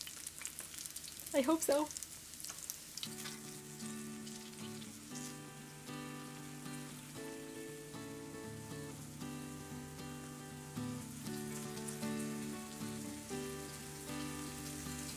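Latkes frying in a pan of hot oil, a steady close sizzle and crackle running throughout beneath background music, with a brief spoken phrase near the start.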